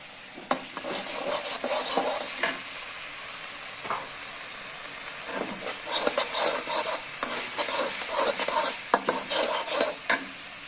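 Pigeon meat fries and sizzles in a pan while a utensil stirs and scrapes against the metal, irregular clinks over a constant close hiss, no talking.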